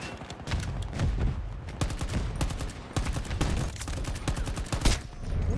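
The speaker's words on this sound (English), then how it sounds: "I was getting shot at, but I'm not sure from where." Dense volleys of video game gunfire, rapid automatic bursts and sharp shots cracking one after another for the whole stretch, loud and close, with no talk.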